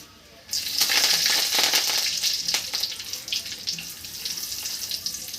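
Dried red chillies and curry leaves hit hot oil in a pan, a sharp burst of crackling sizzle that settles into a steady, softer frying hiss.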